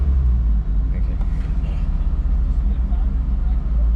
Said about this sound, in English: It's a little loud, other cars